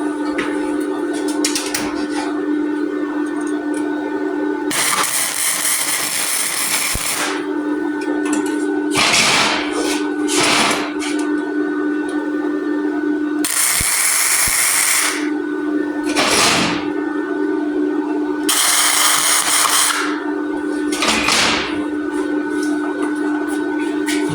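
Tooliom TL-200 MIG welder tack welding, several short bursts of crackling hiss a few seconds apart over a steady electrical hum.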